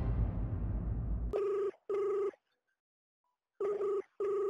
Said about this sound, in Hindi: कमाल है, रिंग जा रही लेकिन जेठालाल फोन नहीं उठा रहा है।